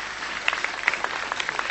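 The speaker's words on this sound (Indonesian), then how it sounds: "tepuk tangan dong teman-teman." Short burst of audience applause at a school event featuring a Gambyong dance performance, with scattered distinct claps popping out of a light, close clapping texture.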